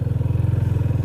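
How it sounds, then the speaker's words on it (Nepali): A 250cc motorcycle climbs a steep hill, its engine thumping in a fast, even pulse, close and fairly loud, with no voices for about a second. "अब बाइक तान्छ कि तान्दैन 250 सीसी हाम्रो इज्जत बचायो"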